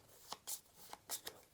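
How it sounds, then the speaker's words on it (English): Cards from the Final Girl board game are shuffled by hand, giving several quick, faint riffling bursts with short pauses between them, close by in a quiet setting. "Shuffle those up"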